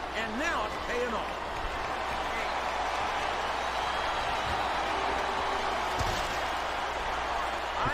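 Arena crowd cheers and applauds in the WWE SmackDown vs Raw 2007 wrestling video game, a steady roar of fans with a brief slam-like thud, under sports commentary.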